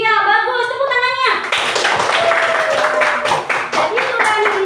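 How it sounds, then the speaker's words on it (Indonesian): Schoolchildren clap their hands together in a classroom, a burst of dense, uneven clapping following a brief voice at the start and carrying on steadily for several seconds, close and fairly loud. "Tepuk tangannya."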